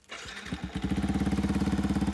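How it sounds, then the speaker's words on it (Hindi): A Yamaha MT-15 motorcycle fitted with a dual exhaust and dB killers cranks and catches, then settles into a fast, steady, loud thumping idle close to the microphone, with no talking. "देखो आइडल पे आपकी बाइक बहुत ज़्यादा शोर नहीं करेगी, नॉर्मल देखो इतनी आवाज़ करेगी"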